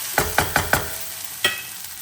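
Corned beef and potatoes fried together in a pan, heard as four quick, evenly spaced spatula scrapes and then one more after a short pause, close up over a soft sizzle.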